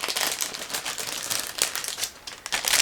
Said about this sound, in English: Now I'm opening first large plastic bag,